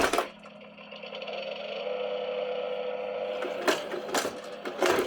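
A VTech Spin Mower toy gives off a buzzy, rattling imitation lawn mower sound, steady and fairly close for a few seconds, then broken by a few sharp clicks and knocks.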